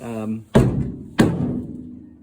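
A foot stamps twice on a newly welded floor panel in a black Austin A35, giving two heavy, resonant metallic thumps close by, preceded by a brief voice.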